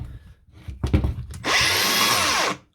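A Makita DGA463 angle grinder with a fault that makes it noisy: some clunks and brief bumps, then the motor spins up into a loud, harsh, steady whine that lasts about a second before cutting off.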